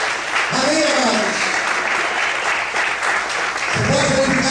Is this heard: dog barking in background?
no